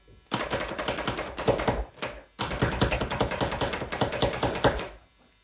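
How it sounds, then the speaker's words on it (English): Rapid, rhythmic chopping taps from a hand-operated food chopper cutting onion, two long bursts separated by a brief pause. "just pull out your food chopper"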